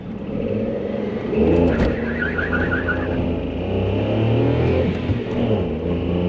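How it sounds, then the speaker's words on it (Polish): A small Daihatsu Cuore city car accelerates, its engine note rising strongly and holding at high revs from inside the car, with a brief chirping tone partway through and no voices. "Sprawdźmy, jak to się rozpędza."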